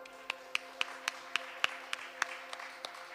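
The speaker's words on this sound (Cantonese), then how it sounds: "俾啲掌聲" A church congregation claps at a Good Friday service, sharp hand claps landing in a steady rhythm about three or four times a second, fairly faint over a quiet, humming room.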